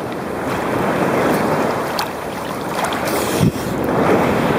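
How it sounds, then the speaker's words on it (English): Steady wash of sea waves at Kastro beach, Skiathos, with wind buffeting the microphone, one surge building and breaking midway, no voices. "Oh, big wave coming up."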